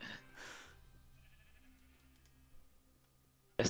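A Minecraft sheep gives a couple of short bleats near the start, followed by quiet game ambience and a sharp, loud burst at the very end.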